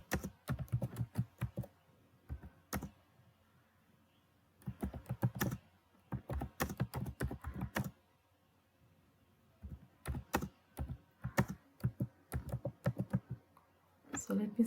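Words being typed into Notepad on a computer keyboard, quick bursts of close, crisp key clicks separated by short pauses, with no voice over them.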